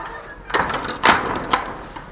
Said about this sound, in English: open the screen door